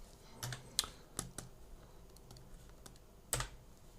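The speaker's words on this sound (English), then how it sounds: "You can just press M on the keyboard." A single key pressed on a computer keyboard while working in Nuke compositing software, with a few sharp isolated clicks spread across a quiet room, close and crisp.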